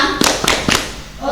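Schoolchildren at a Quran recitation event do a group school clap: three quick, sharp rhythmic claps in unison, close and loud, followed by a brief voice.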